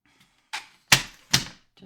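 Paper trimmer slicing cardstock for a card project: a soft slide, then two sharp crisp cutting swipes close by, alone with no talking.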